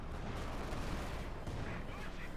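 Heavy mortar fire in Company of Heroes 2 during a multiplayer match, a dense rumbling wash of explosions and battle noise that runs steadily throughout, with a commentator's voice mixed in.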